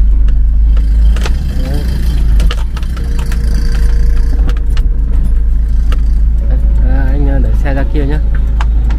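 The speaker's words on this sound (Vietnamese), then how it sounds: "Nhà anh em tôi bắt đầu quay đầu lùi xe vào chuồng" A vehicle reverses into a barn with a steady low engine idle and rumble, under people talking and some metallic clinks.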